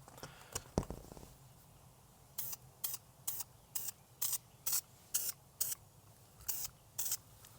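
Short bursts of aerosol spray paint hiss in a steady rhythm while painting a 2010 Ford Ranger roll bar, about a dozen close bright blasts with brief pauses between them.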